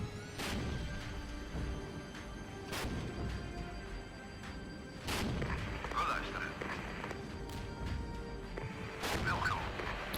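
Artillery fires in the war strategy game Regiments: four heavy booming blasts arrive at irregular intervals over a steady battle rumble, with fainter crackling impacts in between.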